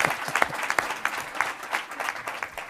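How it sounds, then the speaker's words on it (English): A conference audience at a keynote address applauds with loose, uneven clapping that swells in rhythmic bursts, heard at a moderate distance and fairly quiet. "you clap."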